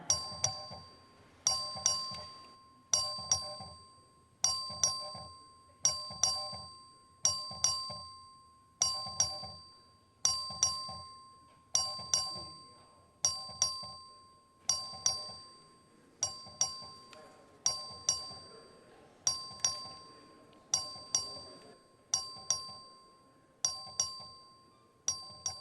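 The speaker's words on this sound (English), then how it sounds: "The clerk will ring the bell." The Texas House chamber voting bell rings in a steady series of about sixteen bright, clear chimes, each ringing out and decaying before the next, with faint room murmur underneath.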